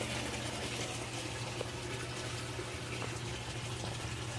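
A new water pump pushes a strong, steady flow of water, a loud continuous gushing rush that holds even from start to finish with no voices.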